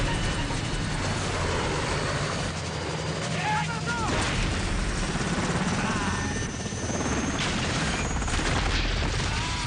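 Military helicopters flying through rocket-propelled grenade fire, with steady rotor thumping and engine roar throughout and bursts of gunfire and blasts mixed in, while a voice talks over the din.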